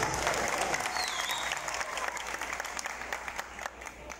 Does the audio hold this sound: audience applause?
yes